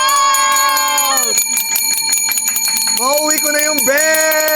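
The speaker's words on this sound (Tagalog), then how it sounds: "Mauwi ko na yung bell!" A handheld bell rings rapidly and loudly during a live selling sale, with bright metallic tones trilling continuously over several seconds, close to the microphone, with no talking over it.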